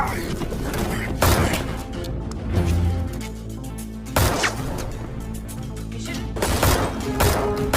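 Gunfire crackles through an action film scene as Alin shoots Scorpion, several loud sharp bursts spaced over a dense, busy soundtrack with no clear talk.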